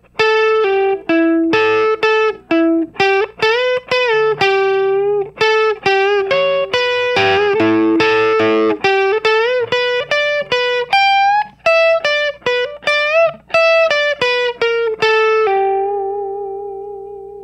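Electric guitar playing a solo, a distorted lead of quick bent and sustained notes in rapid phrases, loud and close, ending on a held note.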